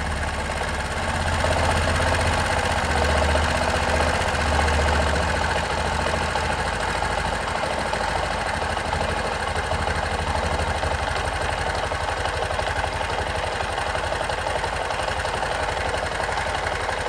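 A Bajaj Discover 100 motorcycle engine idles steadily and close by during carburetor adjustment, a constant low rumble with a faint knocking texture and no pauses.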